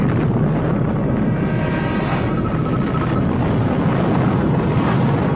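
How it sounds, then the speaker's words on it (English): A 50-megaton nuclear bomb explosion is heard as a sustained, loud, broadband roar. It is dense and rumbling throughout, with a steady wind-like rush and no voices. "the fusion device detonates, shooting a flash of light through the atmosphere, visible from 600 miles away"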